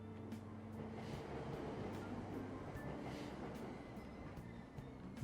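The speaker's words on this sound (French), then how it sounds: "Prendre le métro." A subway train in the game Persona 5 Royal, on the Ginza line in a crowded metro. A low steady rumble with a faint periodic clatter runs continuously at moderate loudness, with no talk.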